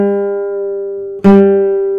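A single guitar string, the third, is plucked during tuning: a sustained ringing note decays, then is plucked again sharply, producing a bright renewed tone that rings on alone.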